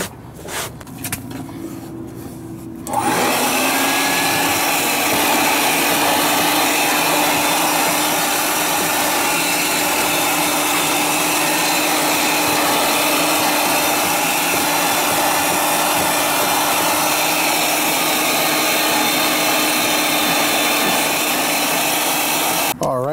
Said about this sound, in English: we got this carpet vacuum cleaned and vacuumed up